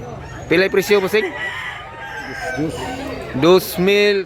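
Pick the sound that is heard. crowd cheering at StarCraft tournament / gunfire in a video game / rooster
rooster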